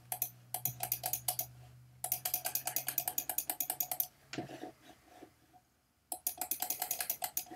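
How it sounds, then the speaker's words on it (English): Rapid bursts of computer keyboard and mouse clicking at close range, clattering in quick rhythmic runs separated by short pauses, with no voices. "I'm just holding shift and clicking wildly until I get as much of it as I can."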